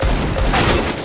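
A loud, dense burst of rapid gunfire erupts during a video game match and keeps booming without a break for about a second, with no talking.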